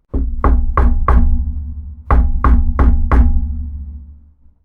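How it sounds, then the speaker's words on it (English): Knocking on a door in a visual novel: two close bursts of four sharp knocks each, loud and evenly spaced with a short pause between the sets, alone with no talk. "he hears some knocking on the door"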